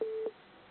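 A telephone busy tone after a call is disconnected: one clear, steady beep lasting about a quarter second, followed by faint hiss on the quiet line.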